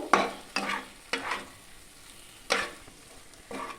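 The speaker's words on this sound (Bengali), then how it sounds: "আলুগুলোকে দিয়ে ভালো করে নাড়াচাড়া করে নেব।" Fried potatoes are stirred in a frying pan for a green banana kofta curry: about five distinct scraping strokes over a soft, steady sizzle, each stroke close and sharp.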